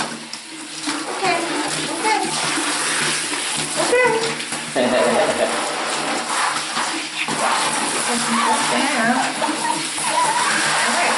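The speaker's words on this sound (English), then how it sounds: "and Maximus, aka Max, is going to be getting his first, his first shower." A Shiba Inu puppy getting his first shower, with running water spraying loudly and continuously and sharp, high yelps and screams cutting through the water noise, while people talk over it.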